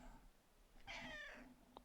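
A cat meows once at close range, a single short call in a quiet indoor room with a faint click near the end.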